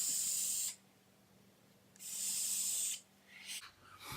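Vaping on an Arctic Subtank at 65 watts with the airflow fully open: loud, airy hissing draws come in two long bursts and a shorter third, with quiet pauses between and no talking.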